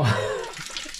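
Water splashes from a simple shower in a rural Thai village, a close burst of pouring water that eases into a lighter, uneven trickle and splatter.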